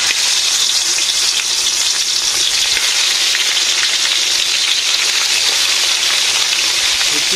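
Vegetables sizzle and fry steadily in a hot pan in a village kitchen, a continuous loud hiss with no break.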